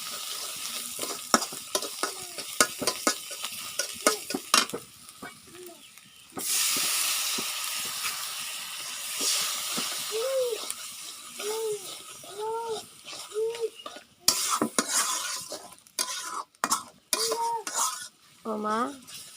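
A spoon scrapes and stirs spice paste with chili and salt frying alongside pangas fish in a home kitchen pan, with steady sizzling, metallic clinks and someone talking at intervals.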